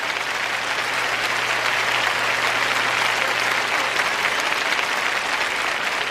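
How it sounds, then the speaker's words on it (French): An audience at a church sermon applauds in a dense, sustained wash of clapping, steady and fairly loud throughout, with no voice over it. "Vous n'êtes pas enthousiasmé, mais vous applaudissez au moins."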